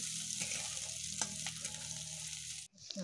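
A masala of chopped onion, garlic and green chillies fries in a pan with a steady close sizzle, broken by a few stirring scrapes before cutting off abruptly near the end.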